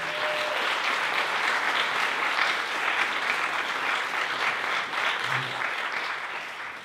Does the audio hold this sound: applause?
yes